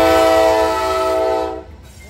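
Norfolk Southern freight train horn blaring loud and close, a sustained chord that cuts off near the end, leaving the low rumble of the passing train.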